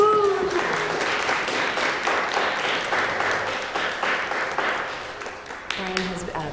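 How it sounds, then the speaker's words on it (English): Audience applause at an event honoring a faculty coordinator, a steady wash of clapping throughout, with voices and cheering mixed in over the top. "So let's give Brian a round of applause."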